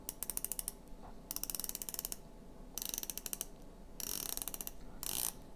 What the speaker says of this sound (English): We have a ceramic bezel insert with a 120 click movement.